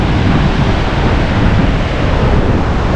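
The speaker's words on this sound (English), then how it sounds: "and a little bit of waves" Ocean surf rolling onto the rocky Humboldt coast below a trail and stairs near Houda Point, a steady broadband wash of nearby waves with wind buffeting the microphone throughout, no talking.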